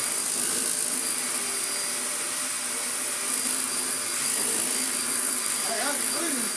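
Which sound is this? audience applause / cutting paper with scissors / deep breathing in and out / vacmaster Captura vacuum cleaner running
vacmaster Captura vacuum cleaner running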